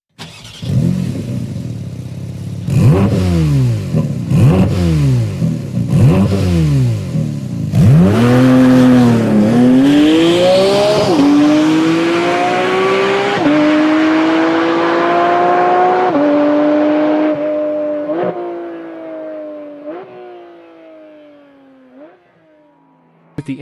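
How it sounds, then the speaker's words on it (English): A Porsche 718 Cayman GT4 RS flat-six, mounted just behind the cabin, blips loudly several times, then roars through a long rising pull with upshifts before easing off and fading to a quiet idle. "the roar of the flat-six is a symphony of power and passion"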